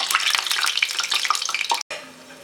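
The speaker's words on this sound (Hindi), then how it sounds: "गैस का फ्लेम हम स्लो करेंगे और कचौरी को हम फ्राई करने के लिए डालेंगे।" Bread kachori deep-frying in hot oil in a pan, a loud dense crackling sizzle with rapid popping bursts, a brief cut-out near the end, then a quieter steady fizz, close up with no voices.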